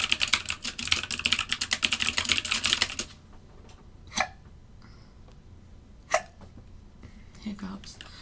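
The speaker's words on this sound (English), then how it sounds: "So excuse my typing really quickly." Rapid, continuous clicking of fingers typing on a computer keyboard for about three seconds, close and crisp, followed by quiet broken only by a few isolated sharp sounds.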